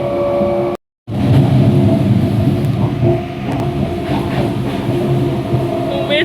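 Empty passenger train pulling out of Domjur station, a loud steady rumble and rattle of carriages heard from inside, briefly cut out near the start, with a faint voice beneath.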